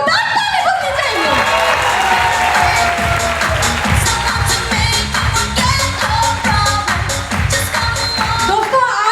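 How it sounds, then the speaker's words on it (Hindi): A crowd at a recognition ceremony breaks into loud applause mixed with cheering and shouts, over music with a rhythmic beat, and the noise stays strong the whole time. "इन सब के लिए एक जोरदार ताली होनी चाहिए"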